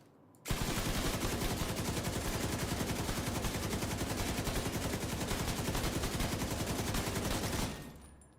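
Sustained automatic gunfire from The Division 2 video game, a dense continuous rapid burst of shots lasting about seven seconds, loud and close, starting abruptly and cutting off near the end, with no talking.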